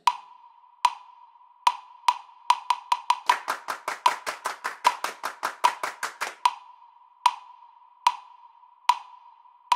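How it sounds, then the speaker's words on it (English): Bare hands clap out a rhythm in a music lesson on notes and rests, crisp single claps spaced slowly at first, then a quick run of evenly spaced claps, then slow spaced claps again with pauses between. "Let's clap this."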